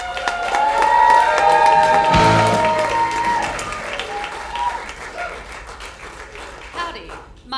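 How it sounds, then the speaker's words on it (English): A comedy bootcamp crowd applauds and cheers for comedian Beck, loud and close. The clapping mixes with whoops and voices, then thins out toward the end. "Big round of applause for Beck."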